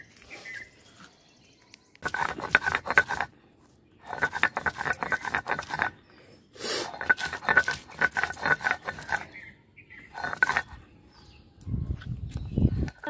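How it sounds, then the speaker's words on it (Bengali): Boiled raw banana and potato peels ground with chilli on a grinding stone, rough rhythmic rubbing strokes in several bursts with short pauses, close and fairly loud. "কাঁচকলার খোলা আর আলুর খোলা বাটবো।"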